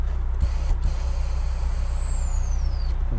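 Air suspension on a VAZ-2172 Priora lets the wheel drop with a continuous pneumatic hiss, while a high, thin whine glides steadily downward in pitch over a low, even hum.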